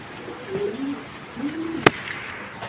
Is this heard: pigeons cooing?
yes